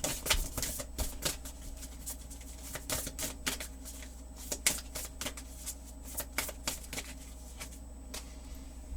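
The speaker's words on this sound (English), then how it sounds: "Wow, cards are flying." Oracle cards being shuffled by hand, a dense run of quick papery riffles and snaps repeating steadily throughout at close range, with no voices.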